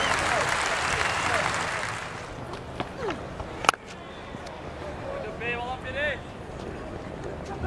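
Spectators at the 2015 South Africa vs England Test in Cape Town applaud in a broad wash that fades after a couple of seconds, leaving a commentator talking over the ground's murmur.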